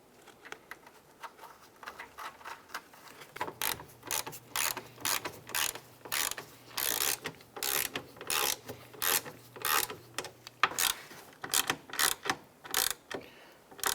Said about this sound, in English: Install the two lower nuts and we'll snug those down.